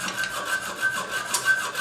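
A saw rasps back and forth through an excess toilet bolt in quick, close strokes, heard alone with no talk.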